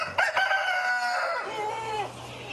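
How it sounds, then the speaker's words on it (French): Chickens on a poultry farm near Abeokuta, Nigeria: a rooster crows loudly and close, its call rising and trailing off over about two seconds, with hens clucking around it. "il établit un élevage de poulets"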